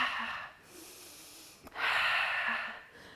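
A person inhales during a Pilates exercise, two audible breaths close to the mic: a longer airy intake, a brief pause with a small catch, then a second stronger breath that fades out.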